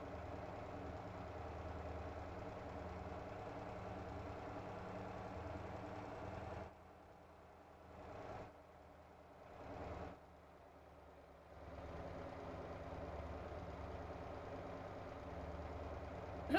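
The truck in the driving game Motor Town idles with a low, steady engine rumble, hauling a load of cheese. The rumble drops out and returns a few times before settling back to a constant drone.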